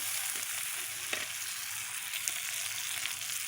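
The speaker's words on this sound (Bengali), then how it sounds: "আমি মাছগুলো পেঁয়াজের সঙ্গে ভাজা ভাজা করে নিয়ে" Fish fries with onions in a pan, giving a steady, even sizzle with small crackles and an occasional stir. It is quiet and close, with no talking.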